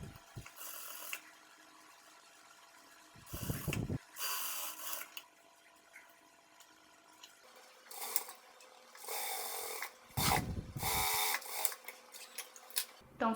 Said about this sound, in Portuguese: E agora eu vou lá para a máquina reta passar uma costura aqui